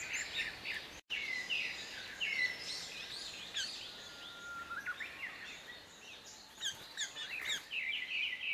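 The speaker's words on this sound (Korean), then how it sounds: "큰 오색 딱따구리 소리가 숲을 가릅니다." White-backed woodpecker calling in a summer forest on Hallasan mountain, repeated sharp high calls and chirps over steady insect-like forest background, fairly clear and not too distant.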